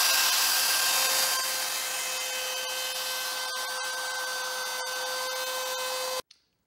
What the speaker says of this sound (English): I have the router and it's fast and easy and makes a nice clean hole